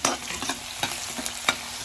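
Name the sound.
onion and green chili frying for Punjabi kadhi tadka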